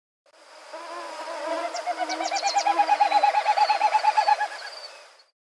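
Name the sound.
winnowing call of a Wilson's snipe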